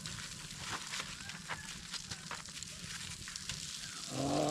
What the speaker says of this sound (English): I can hear them sizzling in there.